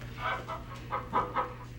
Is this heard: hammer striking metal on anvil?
no